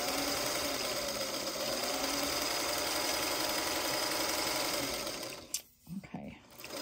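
Sewing machine stitching a quilt block, a loud continuous mechanical whir running steadily and then stopping near the end, followed by a few softer handling noises.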